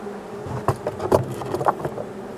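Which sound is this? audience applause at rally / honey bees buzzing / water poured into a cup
honey bees buzzing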